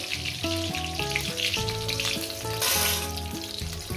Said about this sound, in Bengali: আবার এইটাকে আমি রসুনটাকে ভেজে নেব